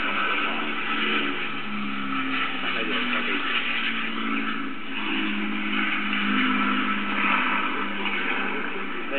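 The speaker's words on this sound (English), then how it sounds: "It's those Merlin engines" Merlin engines of an Avro Lancaster bomber passing overhead at an air show, a steady droning engine roar that swells and eases slightly, heard at a distance with no talk.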